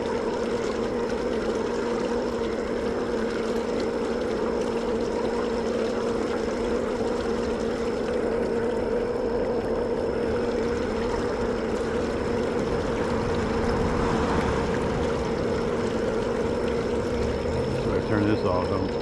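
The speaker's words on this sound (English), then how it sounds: "thousands of gallons of water just being wasted" Thousands of gallons of water pour out steadily and go to waste on a Dallas street, a constant rushing flow with a sustained hum underneath and someone talking over it.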